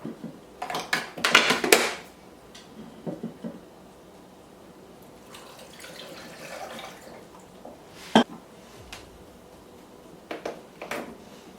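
Water runs and splashes at a kitchen sink while someone washes their face, with a few louder bursts of splashing and drips early on and then quieter, intermittent trickles and clinks nearby.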